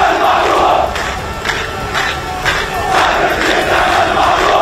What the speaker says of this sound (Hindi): लोगों ने अस्पताल पर हुए हवाई हमले की निंदा की और इजराइल के विरोध में जमकर नारेबाजी की